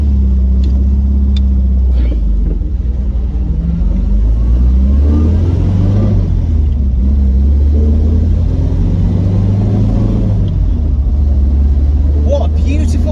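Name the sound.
MGB coupe engine running while driving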